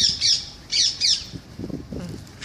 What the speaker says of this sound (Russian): А попугай ругается